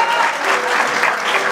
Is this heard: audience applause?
yes